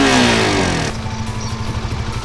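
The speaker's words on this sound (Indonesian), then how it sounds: "Dari pencet baru kita bisa starter motor ini." A Suzuki GSX-R150 motorcycle with keyless ignition starts up, a loud close starter-and-catch burst that settles within a second into a steady, throbbing idle.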